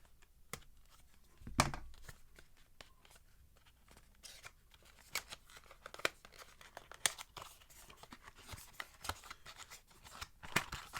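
Cardboard shipping boxes are slit open with a knife, giving faint scattered scraping, tearing and crinkling sounds with sharp clicks and rustles in a quiet room.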